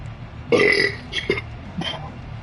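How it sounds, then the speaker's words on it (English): A deep, gurgling burp, loud and close, rolling out in a long first push followed by a couple of shorter croaks and a final small belch. "That burp came deep from within."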